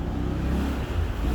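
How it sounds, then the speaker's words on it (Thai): A car passes nearby: a steady, loud low engine and tyre rumble that holds throughout, with a brief dip near the end before the drone returns. "ว่านั่นเสียงรถ"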